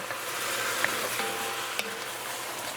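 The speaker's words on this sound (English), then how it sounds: "We want to sear the meat and let the flavors develop." Meat sears in a pot for Guyanese pepperpot with a steady, close hiss of sizzling fat that holds even throughout. A couple of faint clicks of a utensil break through, and no one talks.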